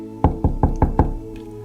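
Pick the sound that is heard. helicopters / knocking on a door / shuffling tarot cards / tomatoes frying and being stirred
knocking on a door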